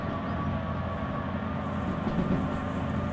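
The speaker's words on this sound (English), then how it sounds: "The train is pushing us pretty good." Long freight train rolling downhill at about 70 km/h with dynamic braking applied, heard from inside the locomotive as a steady, loud low rumble and rail roar with a faint tonal hum throughout.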